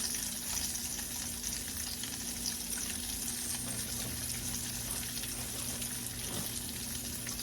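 Liver sizzles in a hot pan, a steady close hiss and crackle of frying that runs on unbroken, with no talking over it.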